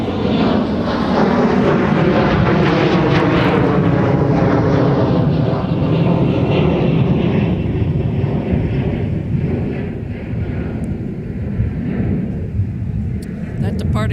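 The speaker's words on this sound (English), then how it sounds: "757 300 departure off of runway 30 right" A Boeing 757-300 airliner rolls down runway 30 right at Minneapolis–Saint Paul airport on its takeoff run, a loud, building jet-engine roar that slowly fades and thins as it climbs away.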